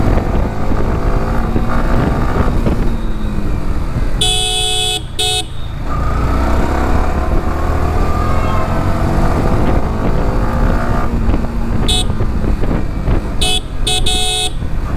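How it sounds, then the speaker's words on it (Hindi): Yamaha R15M single-cylinder sport motorcycle, 2021 model, ridden in track mode: a close, loud engine drone rising and falling with acceleration, with gear changes and a few sharp high-pitched tonal bursts. "सिंगल सिलेंडर में जो आवाज़ आ रही है ना"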